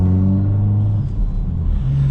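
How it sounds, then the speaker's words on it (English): Steady exhaust and intake drone of a car driving on an empty road in Belgium, a low humming engine note that dips and then climbs again as the throttle opens, close and continuous without talk. "when you hit the throttle a little bit that you can hear there is a little exhaust noise"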